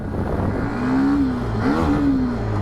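A 125cc motorcycle pulls away and climbs through the gears: a close, steady engine drone rises in pitch, dips briefly at a gear change, then climbs again, with no talking.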